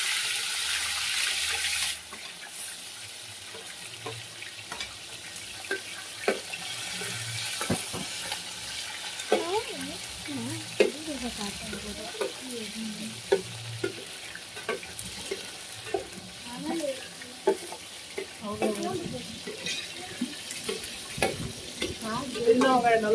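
About four kilos of small shallots sauté in oil with fenugreek for a garlic fish gravy, giving a continuous crackling sizzle broken by repeated scraping and stirring strokes of a spoon in the pot.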